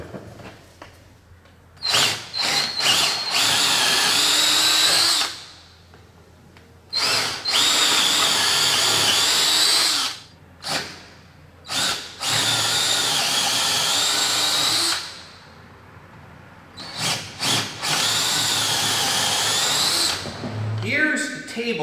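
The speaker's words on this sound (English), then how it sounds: "Time to drill some holes." A power drill whines loudly in sustained bursts while holes are drilled during a camper build to mount a grilling table platform, with several short pauses and quick stops between the long runs.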